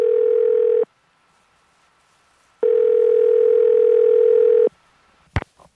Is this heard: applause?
no